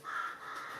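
A single crow caws once, a short harsh call heard at a moderate distance, faint and alone with no talk.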